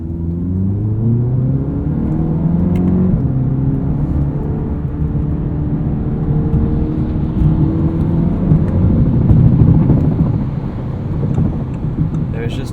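A 2016 Audi TT 2.0T quattro with S tronic gearbox corners on a highway entrance ramp, its engine note rising and falling over a constant low road and tire rumble heard from inside the cabin.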